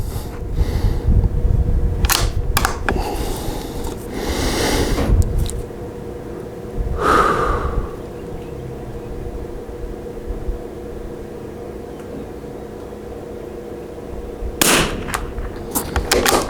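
Rifle shots from a Vudoo 360 with a Krieger barrel firing SK ammunition at a 100-yard range, several sharp loud cracks spaced apart, the strongest near the start and another later, over steady outdoor background noise.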